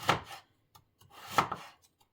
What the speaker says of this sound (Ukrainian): ріжемо червоний буряк